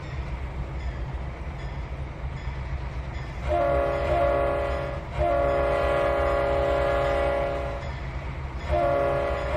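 A train in the video game Trainz 2019 rumbles steadily while its horn sounds in several long blasts, loud and close over the constant rolling noise.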